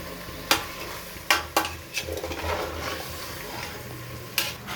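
Chicken biryani is stirred on high flame, a steady sizzle punctuated by several loud spatula knocks and scrapes against the pot.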